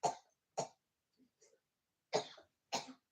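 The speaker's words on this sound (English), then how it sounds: "Oh, she's coughing." A woman, just woken early in the morning, coughs close by in a quiet room. Four sharp coughs come in two pairs, with faint throat sounds and breaths in the gap between them.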